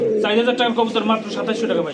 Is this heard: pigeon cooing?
yes